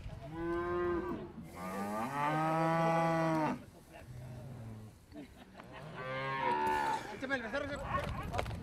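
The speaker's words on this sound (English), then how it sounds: "That's a Renato Ramirez cow." Branded ranch cattle moo loudly and close by, several long, drawn-out bellows following one another with brief pauses between calls.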